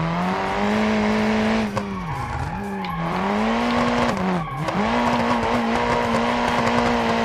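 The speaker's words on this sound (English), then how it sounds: "This game is very easy to drift." A car engine howls at steady high revs in BeamNG Drive as the car drifts, its pitch dipping twice with tire squeal on the slides before climbing back, loud and close throughout.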